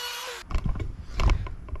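A Dremel rotary tool cuts an X-shaped fluid groove into a metal part for an AOD transmission build with 4R70 internals, giving a brief high-pitched grinding whine that stops abruptly, followed by close knocks and handling noises.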